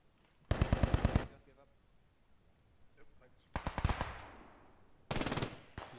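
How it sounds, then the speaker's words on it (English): M1 Garand rifle fire in the World War II squad shooter Post Scriptum comes as three loud, close, rapid volleys of sharp cracks with echoing tails, separated by quieter gaps. "That's an M1 Garand."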